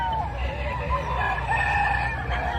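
Roosters crowing at a chicken market in Padre Garcia, Batangas, with drawn-out, overlapping crows and some clucking over a steady crowd murmur, fairly close and loud.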